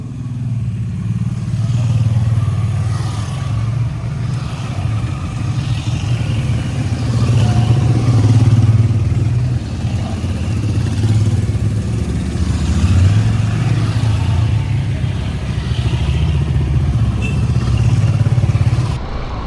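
A group of motorcycles, with a scooter and a KTM Duke among them, ride together on a road near Shantiniketan, their engines a steady, close droning rumble with slight revving swells throughout.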